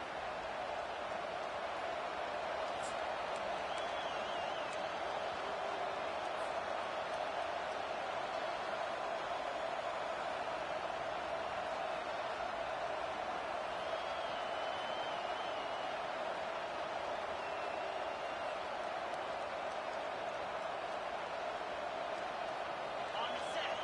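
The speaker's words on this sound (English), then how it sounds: "This crowd bringing the energy and noise early." Steady roar of a large stadium crowd, a continuous wash of cheering and chatter with no distinct voices standing out.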